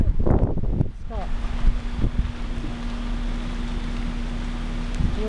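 Broadband wind rush roars steadily outside a vehicle during tropical storm Debby, with a constant low hum, nearby voices talking over the first second and occasional rustles.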